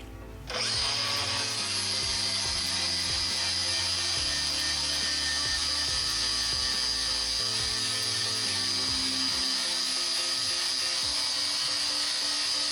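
A power grinder works metal on a Toyota Supra build with a single-turbo 2JZ engine, spinning up abruptly and holding a loud, steady high-pitched whine for over ten seconds.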